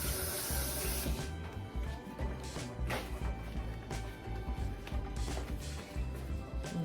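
Hands washed under a running kitchen tap while making salmon croquettes, a steady close splash and gush of water, fairly quiet and continuous, with no talking.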